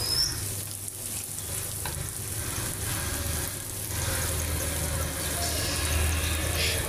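Spices sizzling in hot oil while frying for raw jackfruit curry, a steady close crackle and hiss with occasional stirring scrapes, continuous and fairly loud.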